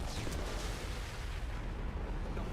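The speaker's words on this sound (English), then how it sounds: "Absolutely love seeing the mini nuke go off." Mini nuke detonating in the video game Mass Effect 2, a loud, sustained low rumbling blast that fills the whole moment and rolls on without a break.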